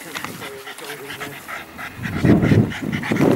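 A ratting dog pants rapidly and closely, breathy and steady, while people talk nearby during rat hunting among bales, the panting growing louder toward the end.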